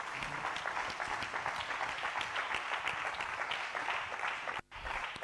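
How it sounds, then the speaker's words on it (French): A church congregation applauds together, a dense, steady wash of clapping that carries on for about five seconds before breaking off abruptly and briefly near the end. "est-ce qu'on peut acclamer tout ce monde-là, s'il vous plaît?"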